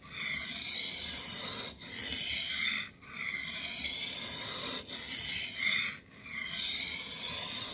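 A Schrade 7-inch knife drawn across a sharpening stone in long, even rasping strokes, close and clear, with brief pauses between passes.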